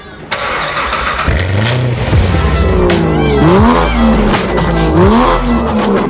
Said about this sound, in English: It'd be absolutely rude not to do some cold starts.